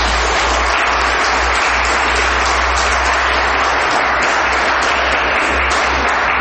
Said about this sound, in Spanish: aplauso a Jesucristo.